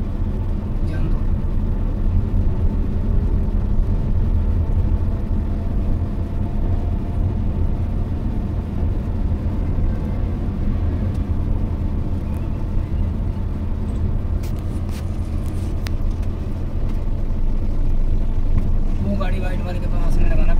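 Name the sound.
car engine while learning to drive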